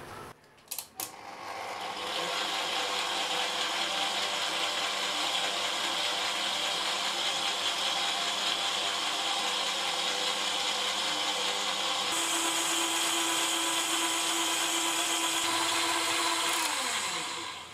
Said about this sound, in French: je vais le mettre dans le pétrin et je vais fouetter pour avoir une meringue